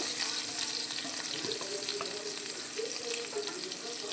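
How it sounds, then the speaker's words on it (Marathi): Masala paste frying in a few spoonfuls of hot oil while cooking a capsicum and onion dish, giving a steady, dense sizzle that stays close and even throughout, with no voices. "आपण जे हे मसाला हे केलेलं आहे ते पण आता आपण तेलामध्ये परतून घेणार आहे"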